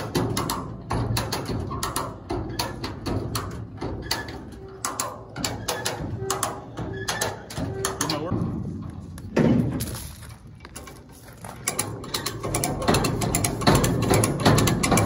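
A 1970 Dodge Coronet R/T barn find with racing slicks, its engine cranking over and over in a steady mechanical churning rhythm, loud and close, with a brief lull partway through before the cranking resumes.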